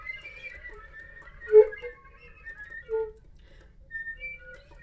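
Played-back flute whistle tone samples: faint, thin, wavering high tones that drift and flicker, with a slightly stronger mid note near the middle, sounding soft and airy over a quiet low background.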